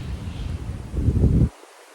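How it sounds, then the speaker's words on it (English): Outdoor wind buffets the microphone with low rumbling gusts that build to a stronger blast before cutting off abruptly. "windy."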